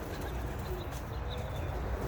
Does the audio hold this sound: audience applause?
no